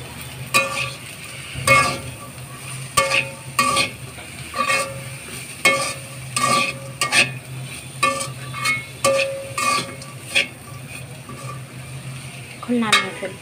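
Fried food with chopped coriander is stirred in a pan, a rhythmic series of close scraping and clacking strokes over a soft background sizzle, repeating roughly every second with no speech.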